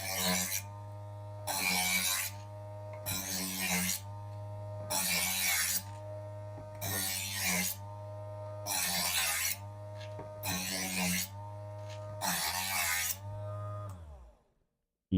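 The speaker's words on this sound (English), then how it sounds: "I'll move over to the fine to touch up the blade. Just put a fine, finish little polish on it." A knife blade is drawn repeatedly through the fine polishing stage of an electric knife sharpener, eight rhythmic rasping strokes over a constant motor hum, each about a second long, close and clear, with the motor stopping at the end.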